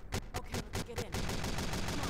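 Rapid bursts of gunfire in Lambda Fortress, the Half-Life-style multiplayer game, crack in quick succession, then merge into sustained automatic fire in the background.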